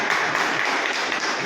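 Brief, dense clapping from a crowd at a political event with press and party workers, a short even wash of applause without any talk.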